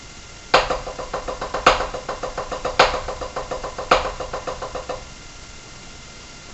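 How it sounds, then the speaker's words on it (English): A drum plays the triple paradiddle diddle rudiment: four evenly spaced accented strokes, each followed by a quick run of lighter, even strokes, close and crisp with no voice, ending in a short silence. "triple paradiddle diddle"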